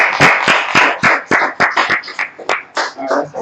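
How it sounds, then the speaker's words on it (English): A congregation claps together at the close of a Sabbath service: a quick run of sharp, fairly close handclaps in a loose, steady rhythm, with no talking over them. "Clap it up."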